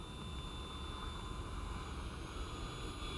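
A RebelV2 RC airplane flies at around 60 to 70 percent throttle, its steady electric whine holding evenly across the clip with no voices, a constant buzzing drone from the air.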